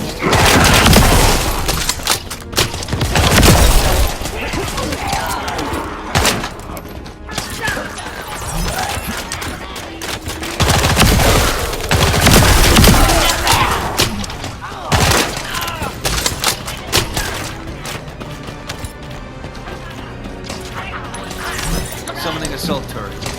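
Sustained assault turret gunfire in The First Descendant, loud rattling volleys and heavy booms surging and easing over many seconds, mixed with game voices and battle noise.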